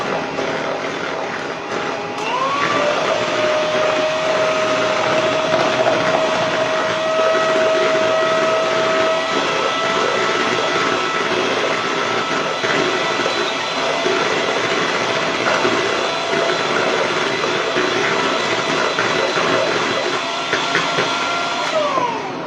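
A large mixer churning a small batch of chocolate chip cookie dough in a big bowl, giving a steady loud motor whir with a rising tone near the start, continuous and alone throughout.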